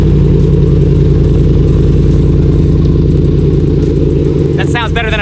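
A straight-piped, widebody Ferrari 458 rumbles loud and close with a deep, throbbing exhaust note that holds steady, then ends with a few sharp crackles. Voices speak over it.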